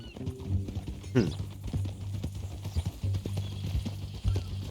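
Horse hooves clip-clop at a steady walking pace on a ranch in Red Dead Redemption 2, close and clear, mixed with a faint voice and other game sounds.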